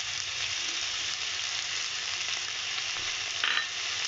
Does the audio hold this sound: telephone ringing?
no